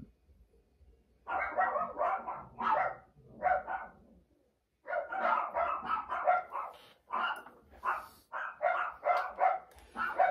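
Dogs barking in repeated bursts, loud and close, with a short pause before the barking resumes steadily.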